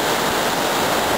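Arabian Sea surf washes in at Thalikulam beach as a close, continuous hiss and roar of breaking water, brief and unbroken, with no voices.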